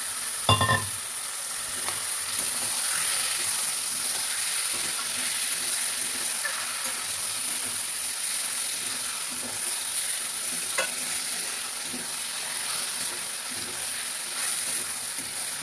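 Fish slid into hot oil with browned onion and green chili sizzles in a steady, close frying hiss, with a sharp clatter of stirring near the start.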